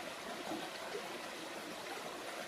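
Waterfall and river stream along a rocky riverbank on a Mt. Tanawan hike, a steady, soft, distant rushing wash of water with no voices.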